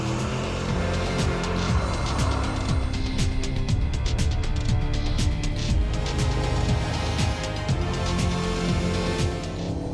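An Audi RS7 Sportback driven hard on a race circuit, its engine note loud and continuous throughout, with rising and falling revs and rapid gear changes.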